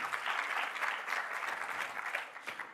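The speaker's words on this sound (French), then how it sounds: "Allez, on l'applaudit." Dense, steady applause from an audience at a business pitch event with a jury, holding at an even, loud level for the whole stretch without any speech over it.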